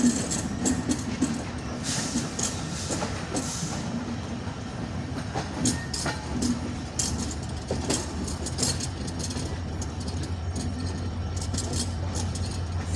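Panchagarh Express hauled by locomotive 6639 entering Parbatipur Junction, a loud steady rolling rumble with repeated clickety-clack wheel beats over rail joints throughout.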